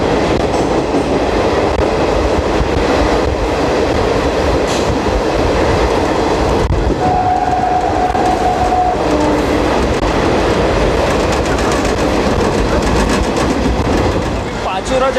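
Garib Rath Express train rolling through at speed past Pachora Junction, a steady loud rumble of wheels and carriage noise throughout with a brief tonal whine partway, heard close from on board.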